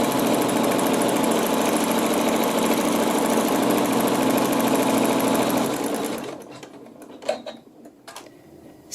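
A sewing machine stitches fabric for quilting, running at a fast, steady, loud hum with a rapid needle rhythm for about six seconds, then winding down and stopping, followed by a few faint clicks and handling noises.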